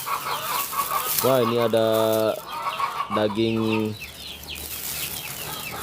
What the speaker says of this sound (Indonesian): memberikan dulu pakan kepada kepada ayam ya, kepada ayam dulu ya. Nih ayam pakannya sudah siap sedia nih.